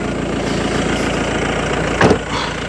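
A Mahindra Scorpio car engine idles steadily at close range, a continuous low rumble with a brief louder burst near the end.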